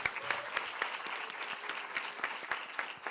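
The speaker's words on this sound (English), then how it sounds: "A big round of applause for Bongi" Audience applause at an annual Women in Media and Communications event, a steady dense wash of many hands clapping throughout with no talk over it.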